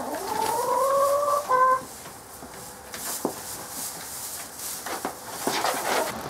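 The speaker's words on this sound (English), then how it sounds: "I love it when chickens get new hay, because they frolic around it and they have a great time." A hen gives a rising, drawn-out call, followed by scattered soft clucks and rustling nearby as chickens move about in fresh hay.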